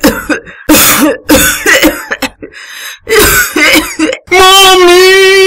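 A cartoon mother coughs in harsh, repeated bursts with throat clearing between them, loud and close, ending in a long strained wheezing cough, with no speech.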